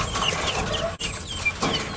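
Guinea fowl call in a fall garden, a dense chorus of harsh, clucking cries from several birds overlapping at close to moderate distance, with no talk.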